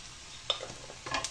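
Chicken rice masala is sautéed in a pan with a faint, brief sizzle and two quick scraping stirs, quiet and close, with no voices.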